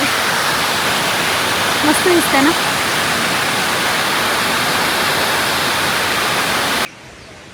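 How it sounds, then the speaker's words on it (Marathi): A waterfall roars loud and steady up close, a continuous wash of rushing water, with a voice speaking briefly over it before it cuts off. "इथून हा मेन धबधबा सुरू होतो"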